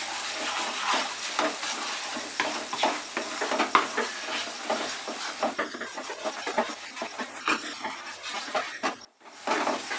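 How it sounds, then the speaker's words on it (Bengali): Spice paste for Bengali prawn dopiaza with a little sugar sizzles and fries in oil over medium heat, a steady close hiss with repeated scraping stirs throughout and a brief pause near the end. "মশলাটাকে কষাতে হবে, আঁচটা মাঝারি আছে দেখে আমি মশলাটাকে কষিয়ে নেব।"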